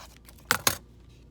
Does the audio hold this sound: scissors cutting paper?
yes